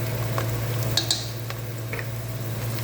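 Garlic dropped into hot oil with cinnamon and bay leaves, sizzling steadily while a utensil stirs and scrapes against the pan, with a few light clinks close by.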